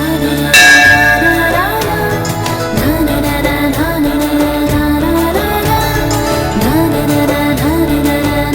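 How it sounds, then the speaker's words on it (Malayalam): A church bell rings with a loud, bright strike near the start, then its tone lingers and blends into a sustained musical background for the rest of the stretch. "ദേ, ഇപ്പോഴും മണിയടിച്ചില്ലേ?"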